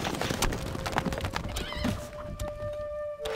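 A horse gallops and whinnies in the Stronghold Crusader video game, with loud, steady clip-clop hoofbeats and a neigh running through the whole stretch.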